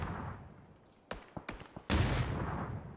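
Gunfire in the battle royale game PUBG during a competitive scrim: a few sharp, distant shots crack out of a quiet stretch, then a louder, denser burst of fire rolls in near the end.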